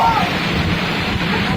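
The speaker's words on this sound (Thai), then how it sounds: "พายุเข้าอ่ะพ่อ" A rainy windstorm roars as a dense, constant rush of gusting wind and rain, loud and close against the microphone.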